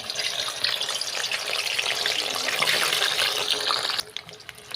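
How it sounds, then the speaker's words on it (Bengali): Potatoes fry in hot oil with a loud, dense, continuous hiss that drops abruptly to a quieter sizzle near the end. "তোমার তেলটা গরম হয়ে গেছে এবার আলুগুলোকে তেলের মধ্যে দিয়ে দিচ্ছি"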